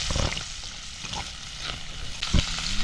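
Saltfish frying in a pot of hot oil: a dense, continuous sizzle and bubbling crackle, fairly close, with a few louder spatters and no talking.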